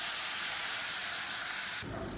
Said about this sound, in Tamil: இதில் கொஞ்சமாக தண்ணி சேர்த்துக்கலாம்.